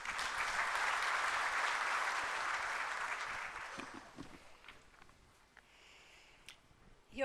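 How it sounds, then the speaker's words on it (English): Audience applause at a National Human Rights Day event in India, a sustained hall-wide clapping that fades out after about four seconds into scattered claps and quiet room noise. "And I want you all to give her a huge round of applause."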